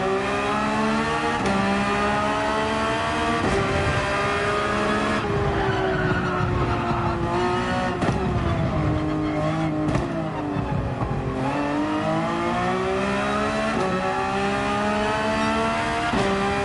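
A Porsche 911 GT3 on a hot lap in Gran Turismo 7, a steady high-revving engine note rising and falling through gear changes and corners, loud and continuous with no talk.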